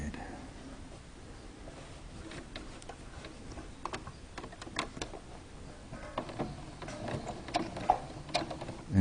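A sewing machine backstitches across a fabric face mask, its needle ticking in quick, uneven bursts close by, with pauses and a steadier run toward the end.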